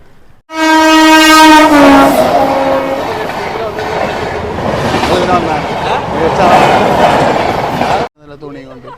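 A train sounds a long, loud horn blast, then rumbles and clatters past close by for several seconds before the noise cuts off, near a festival with an elephant procession at Kodumunda, Pattambi.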